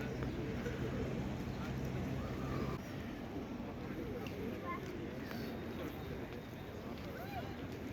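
Pigeons around a shrine give soft coos and flutters amid a busy outdoor crowd murmur, with a low steady hum early on fading after a few seconds.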